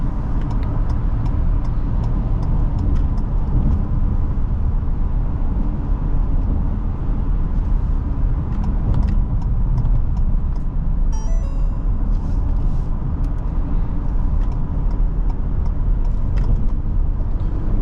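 A 2020 Ford Police Interceptor Utility with the 3.3L engine accelerates at full throttle, a loud continuous engine roar with road rumble heard from inside the cabin throughout.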